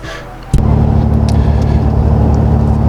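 Cabin of a 2021 Ram 2500 rolling on 35-inch Toyo Open Country AT3 tires, a sudden bump giving way to a loud, steady low engine and road drone that holds evenly throughout.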